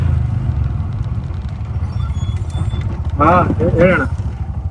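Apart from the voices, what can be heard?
vehicle engine running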